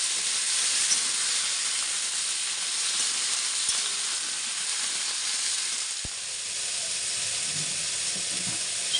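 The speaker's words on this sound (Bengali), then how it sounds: "সবজিগুলো এখন দিয়ে দিলাম কড়াইয়ের মধ্যে।" Vegetables frying in oil in a wok give off a steady, bright sizzle that runs without a break, with a couple of faint clicks of stirring.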